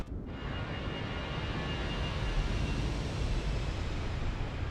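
Airbus A320 in the Fenix flight simulator climbs after takeoff, a steady, loud broadband engine and airflow roar that holds evenly throughout with no talk.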